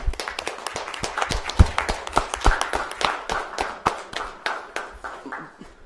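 Scattered, sparse clapping from a small group at a school board meeting, individual claps distinct and irregular rather than a full ovation, fairly close and with no talk over it.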